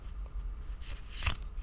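Tarot cards shuffled by hand in a quiet room, with soft, continuous riffling and rustling and a slightly louder flutter of cards near the end.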